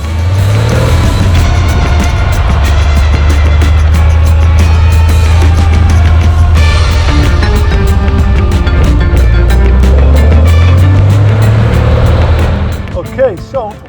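A 1972 Porsche 911 RSR R1 race car with a twin-plug 2.8 litre engine drives through Paris streets, its loud, steady engine drone rising and falling with gear changes from close inside the car.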